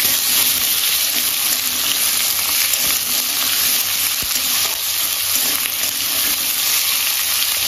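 Potato pieces and bay leaves with cinnamon, cloves and cardamom frying in hot oil, a steady loud sizzle holding even across the whole stretch with no pauses.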